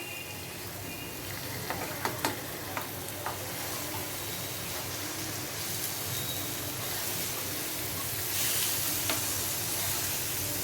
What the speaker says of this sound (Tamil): நம்ம மசாலா மீனை வந்து அந்த மசாலாவோட லேசாக அப்படியே பரட்டி விடுவோம்